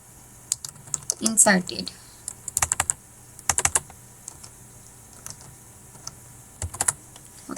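Computer keyboard keys are typed in irregular bursts while values are entered into an array program, crisp and close, with a brief spoken word between the keystrokes.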